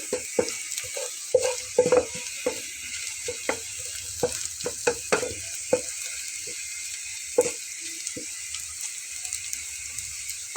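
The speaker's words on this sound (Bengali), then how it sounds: "শুটকি মাছটা এভাবে ভাজা হতে থাকবে" Dried fish fries in a pan with a steady hiss and irregular pops and crackles, heard up close and fairly loud with no one talking.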